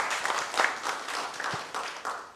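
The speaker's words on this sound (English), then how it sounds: "Can we welcome Naveen with big round of applause, please?" An audience at a corporate talent event claps to welcome a speaker, moderately quiet, steady applause with distinct individual claps throughout.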